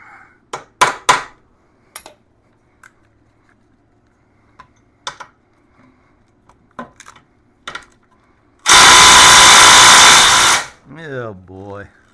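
A power tool works rusted bolts loose on the rear differential of a 1996 Yamaha Wolverine 350. Scattered metallic clinks and taps lead up to a single loud, rasping burst about two seconds long, close by, followed by a brief winding-down whine.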